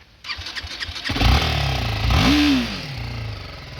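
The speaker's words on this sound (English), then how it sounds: "Let's start the bike now." A 2024 BMW G310R motorcycle engine cranks and fires up, settling into a loud idle with a brief rising squeal of revs before easing back down.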